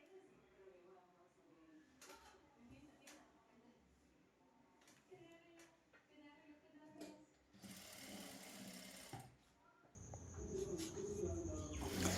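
A sewing machine stitches the side seam of a palazzo, whirring in steady bursts that swell louder toward the end, with soft background chatter and faint bird coos.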